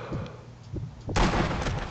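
An artillery shell in Sniper Elite 2 bursts after being shot: a few soft thuds, then a sudden loud blast that rolls into a sustained, rumbling roar.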